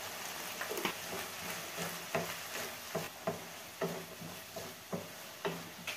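Garlic paste dropped into a hot pan: a faint, steady sizzle with a series of regular soft taps, likely a spoon stirring, with no talking.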